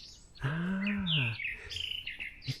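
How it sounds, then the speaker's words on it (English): A small bird chirps close by in low shrubs, sending out a bright warbling phrase followed by a few short higher tweets during a quiet morning outdoors. "it's just there in front of me in those little plants, in those shrubs or trees. Lovely little sound."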